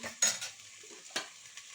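Eggs frying in a pan, with a low sizzle under sharp utensil scrapes and taps at the start and again midway, close and fairly quiet.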